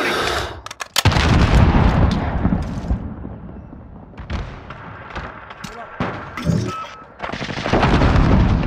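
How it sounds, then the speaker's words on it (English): Heavy Call of Duty Modern Warfare combat with rapid, loud bursts of gunfire and booming blasts, including a grenade explosion. The firing is dense at the start and end, with a quieter stretch of scattered shots in the middle and voices mixed underneath. "Grenade out!"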